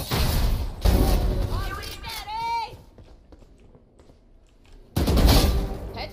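Valorant gunfire crackles in short bursts at the start and end, with a pitched whistling effect and a quieter lull between; a voice talks over the shooting.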